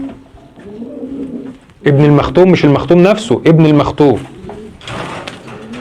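Pigeons of a French-bred line coo softly in low, rolling phrases at the start and end, while someone talks loudly over the middle stretch.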